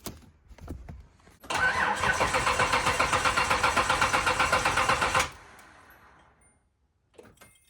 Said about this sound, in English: run it till it dies